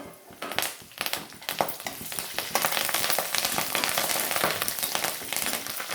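Curry leaves dropped into hot tempering oil crackle and sizzle loudly and densely up close, with stirring scrapes, while a seasoning for coconut yogurt chutney with mustard is prepared.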